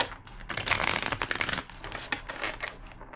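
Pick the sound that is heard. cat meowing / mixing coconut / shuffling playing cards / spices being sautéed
shuffling playing cards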